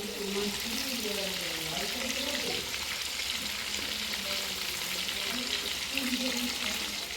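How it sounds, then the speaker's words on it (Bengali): Pointed gourd and fish frying in a pan on a gas stove in a village kitchen, a continuous soft sizzle at low level with voices talking over it. "পটল ভাজা হচ্ছে মাছ ভাজা"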